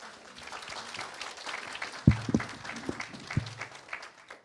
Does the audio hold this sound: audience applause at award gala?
yes